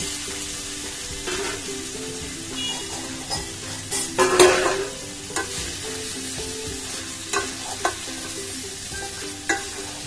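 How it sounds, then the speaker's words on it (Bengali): Jackfruit and fried potatoes are stirred into spice paste in a pan for a Bengali curry, with a steady sizzle under scraping spatula strokes and occasional louder clatters against the pan. "মশলার সাথে সুন্দর করে একটু কষিয়ে নেব।"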